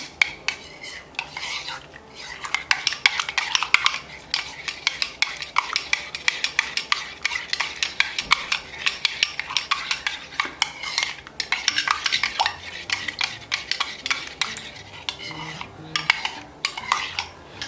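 A spoon stirs coffee mixed with lemon juice and a spoonful of honey in a cup, with quick, continuous metallic clinks and scrapes against the sides, close and steady, with no talking.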